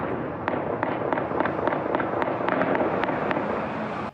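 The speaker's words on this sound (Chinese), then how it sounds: "影片内底阁会当一直听到枪声" Gunfire and explosions from Evin prison in Tehran, heard in news footage: rapid, irregular sharp cracks and bangs repeat over a constant rumbling roar and sound somewhat distant.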